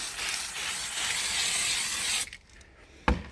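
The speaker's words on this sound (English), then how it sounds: "This sprays on at the equivalent of 1500 fine." A spray can puts down black undercoat paint in a steady, close hiss that runs for about two seconds, then cuts off, followed by a brief sharp clack.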